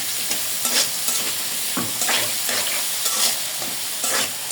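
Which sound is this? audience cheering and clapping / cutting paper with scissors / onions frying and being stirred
onions frying and being stirred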